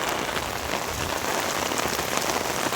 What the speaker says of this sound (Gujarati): આજ આગાહી છે અને વરસાદ ચાલુ થઈ ગયો